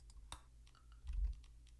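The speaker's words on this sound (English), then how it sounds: "Sorry if my clicking's loud, but it is right near my microphone" Computer mouse clicking right beside the microphone during a Rimworld session, a few sharp, close, separate clicks over a quiet low hum, with no talking.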